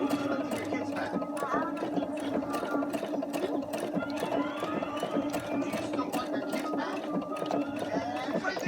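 A sewing machine stitching fabric in a rapid steady run, close and continuous, with a person talking over it.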